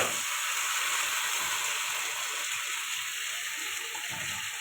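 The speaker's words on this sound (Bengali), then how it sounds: "এবারে মশলা মাখা মাংসগুলো দিয়ে দেবো।" Spice-marinated chicken pieces hit a pan of onions fried until red, giving a loud, steady sizzle with a dense, even hiss that carries through without pause and no voices.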